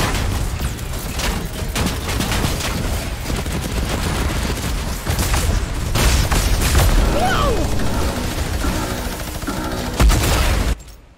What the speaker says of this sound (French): Est-ce qu'on a eu notre lot d'explosions?